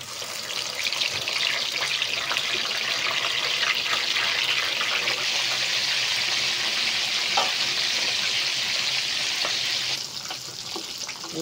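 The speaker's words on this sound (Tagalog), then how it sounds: "ipiprito natin itong isda" Marinated tilapia fries in fresh cooking oil with a loud, steady, crackling sizzle that continues for several seconds and eases slightly near the end.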